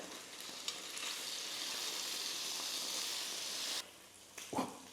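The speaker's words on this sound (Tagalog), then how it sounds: "Iprito lang muna natin ito hanggang mag-brown na yung isang side na nasa ilalim." Pork belly liempo frying in a pan gives a steady, close hiss of sizzling fat that suddenly drops away near the end, followed by a brief clatter.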